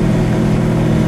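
A 1968 Oldsmobile 442 W-30 in Willow Gold out on a cruise, its engine giving off a steady, loud, broadband rumble with no break and no talk.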